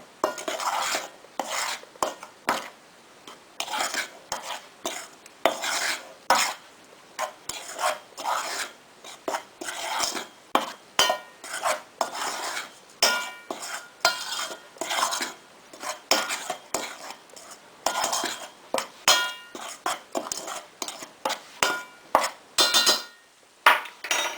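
A yeast-free bread mixture of flour and dried herbs is stirred thoroughly in a bowl, with repeated rasping and scraping strokes of a utensil against the bowl in an uneven rhythm, close and clear.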